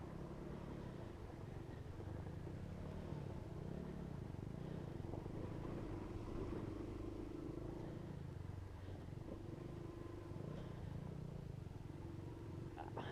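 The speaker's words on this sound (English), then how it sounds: "Well, this is one way to test out a new motorcycle." A new motorcycle rides off-road along a sandy green lane, its engine a continuous low rumble that rises and falls with throttle under wind noise, never dropping out.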